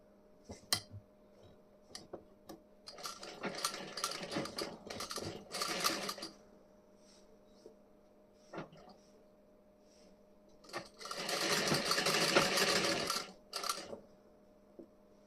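Domestic sewing machine stitching a folded seam on the front panel of a blouse, two bursts of fast mechanical whirring, one around the middle and a longer one near the end, with small clicks and handling between and no talk.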